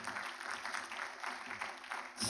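Audience applause at an awards ceremony of the Rotary club, a sustained field of clapping from a seated crowd at moderate volume that cuts off abruptly near the end.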